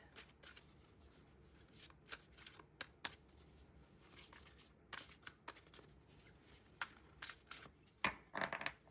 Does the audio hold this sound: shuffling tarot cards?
yes